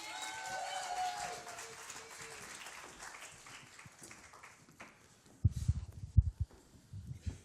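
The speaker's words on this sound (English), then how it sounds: "give them a round of applause" Audience applause breaks out loudly in the last two seconds, a burst of clapping that follows softer crowd murmur and talk.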